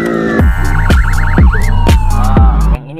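A battery-powered toy police car plays a loud electronic siren in a wavering wail, punctuated by repeated sharp clicks or thumps about every half second, ending abruptly at about three seconds.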